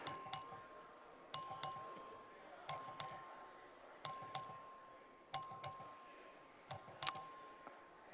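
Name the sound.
bell rung to call a vote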